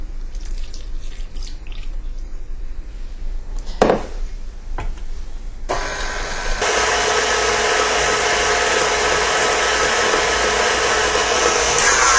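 An electric stand mixer whirs steadily while mixing icing for a banana bundt cake, a continuous loud motor hum starting partway through after some clinks and light kitchen noise.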